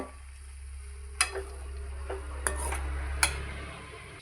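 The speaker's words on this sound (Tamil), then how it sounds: "அடுப்பை ஸ்டீ சிம்மில் வச்சுட்டு நல்லா கிண்டி விட்டு நல்லா எண்ணெயிலே நல்லா வதங்குறதுக்கு" Masala frying in oil over a low flame for chicken gravy, a faint steady sizzle broken by a few sharp scrapes and clinks of a spoon against the pan, with no voices.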